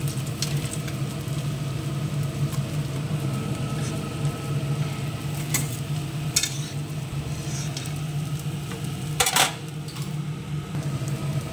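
Large pabda fish lifted out of hot frying oil in a pan: a steady, loud, close sizzle throughout, broken by a few brief metallic clinks of a utensil against the pan.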